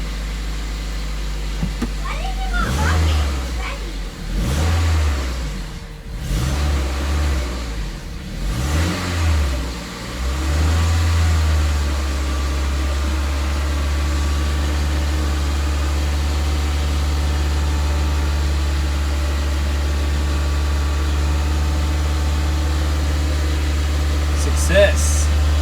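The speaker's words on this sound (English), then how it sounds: "So the car starts and then it stops" A Toyota MR2 ZZW30 engine, just converted to a manual gearbox, cranks and catches with several revving surges, then settles into a steady idle. A voice speaks over the early attempts.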